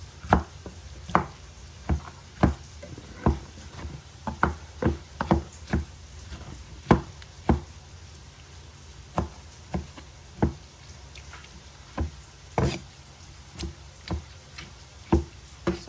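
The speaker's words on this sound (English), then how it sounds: "It's very easy to chop." Knife blade chopping eggplant on a cutting board, a steady series of sharp, close knocks spaced irregularly about a second apart, with no voices over them.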